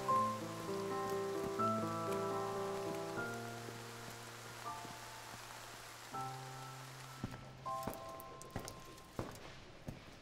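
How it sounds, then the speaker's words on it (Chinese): Heavy rain pours steadily, first under a sustained musical score and then more exposed as the music fades, with a few sharper knocks or drips in the last seconds. "外面下那么大雨，你怎么回来？"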